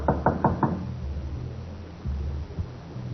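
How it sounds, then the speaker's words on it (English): Four quick, firm raps on a wooden door, close and dry, produced as a radio drama sound effect and followed by a brief lull with a couple of softer thuds. "We're going to knock on the door."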